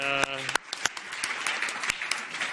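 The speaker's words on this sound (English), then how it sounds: "can we once again have a round of applause?" Audience applause after a panel discussion at a conference session, steady scattered clapping that follows a short spoken phrase at the start and carries on to the end with a few sharper individual claps.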